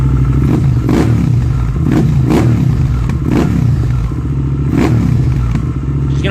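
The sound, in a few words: motorcycle with JRE exhaust pipe revving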